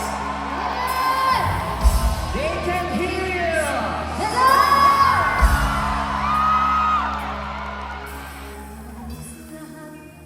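A concert crowd at a show in Saskatoon whoops, shouts and cheers loudly, with an emcee's amplified voice over the roaring audience and the noise swelling midway before easing off.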